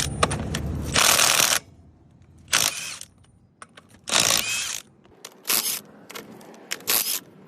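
A ratchet works loose the lug nuts on a trailer wheel in quick bursts of sharp clicking, separated by short quiet pauses, close and clear.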